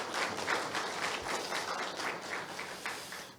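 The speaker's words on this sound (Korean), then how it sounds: "박수 한번 부탁드립니다." Steady applause from a seminar audience at an occupational safety and health event, dense overlapping clapping sustained throughout at moderate distance, with no talking over it.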